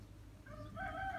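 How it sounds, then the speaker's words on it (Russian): A rooster crows faintly in the distance, a short rising call over quiet outdoor background. "Петухи поют."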